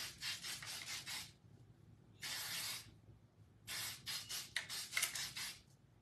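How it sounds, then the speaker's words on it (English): Several short hissing bursts of hairspray aimed at scrunched hair, close and fairly quiet, in uneven spurts separated by brief pauses, with faint rustling in between. "and then I just kind of give it a couple sprays and go like this."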